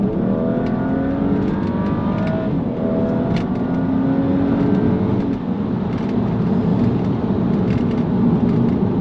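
BMW 335i E93 convertible pushed hard in sport mode on a dual carriageway, its engine note rising steadily through the revs, a loud and continuous roar with rising harmonic sweeps and road rumble beneath.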